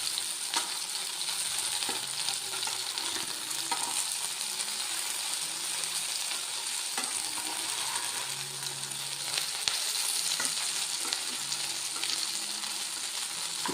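Brinjal slices with curry leaves sizzle steadily in masala in a pan as they are turned over, a close, continuous fry with scattered clicks and scrapes from stirring, and no voices.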